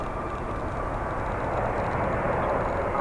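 A United Embraer 175 regional jet from Des Moines arrives at Chicago O'Hare, heard as a faint, even engine roar that holds steady throughout without voices.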